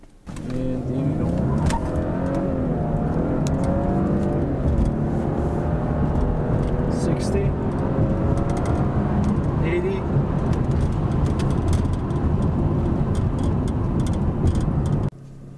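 A Lincoln MKZ AWD with a 3.0L engine launches at full throttle in sport mode with the windows closed. Its engine note rises steadily as it pulls hard, a loud, sustained acceleration heard from inside the cabin.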